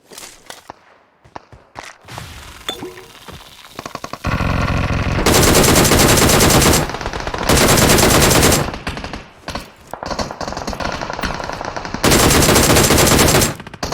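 Gunfire in the video game PUBG Mobile, with scattered close single shots followed by long, loud bursts of sustained automatic fire.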